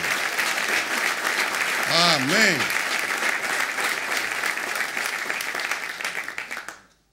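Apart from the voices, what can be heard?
congregation applauding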